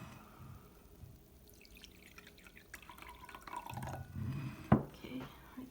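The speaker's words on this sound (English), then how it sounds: "we're going to go ahead and start pouring again" Water pours onto a double-gusseted disposable diaper, starting as faint trickles and drips and swelling to a louder close splash with a sharp drip near the end, over quiet room noise.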